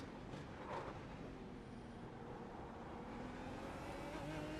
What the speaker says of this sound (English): Car sounds great as well